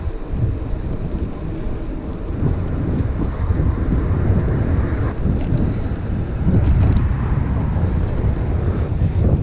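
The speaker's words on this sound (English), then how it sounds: "The wind seems to have got up this side of Kroll" Wind rushing steadily past while cycling, a constant low roar of buffeting gusts filling the whole stretch with no voices.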